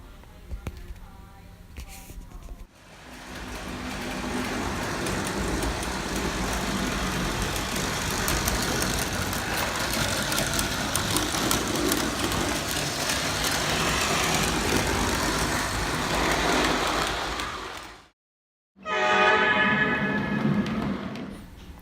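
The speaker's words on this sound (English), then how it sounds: "some shots of my big CN engine running with the new boxcar that I got recently behind it" A large CN Lionel model train engine pulls a boxcar around a layout, its steady motor hum and engine sound effects running continuously for about fifteen seconds, then breaking off briefly before resuming.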